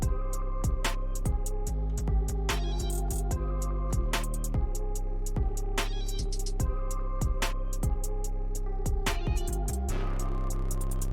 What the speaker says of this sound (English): I have the 808 completely change up for the end of it.